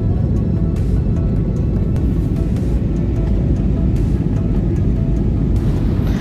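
A passenger airliner accelerating on takeoff from Guwahati, heard from inside the cabin as a loud, steady low-frequency engine roar and rumble, continuous throughout without speech.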